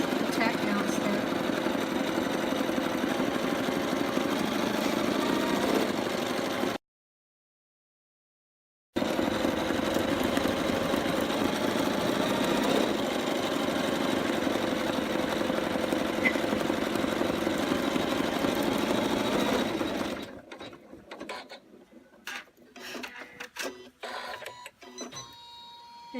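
An embroidery machine stitches a tack-down step, a steady mechanical whirring with rapid needle ticking that runs continuously apart from a short pause, then gives way to intermittent clicks and quieter handling.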